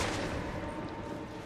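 Dense, continuous gunfire in Alan Wake II, a loud wall of rumbling shots and booms at close range that blur together over a short stretch with no talk.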